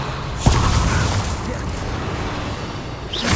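The Revelio spell is cast in Hogwarts Legacy, a sudden soft boom with a whooshing shimmer that fades into a sustained magical wash, with a rising swish near the end.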